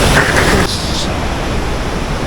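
A fast, strong river current rushes in a loud, steady broadband roar at close range, briefly louder at the start before settling into an even wash.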